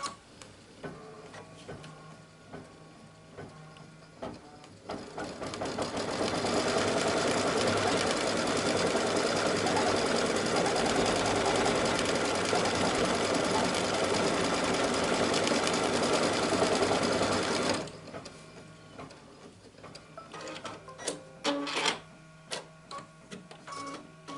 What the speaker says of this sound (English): I'm simply laying it on top of the fabric and I'm going to stitch my tack down.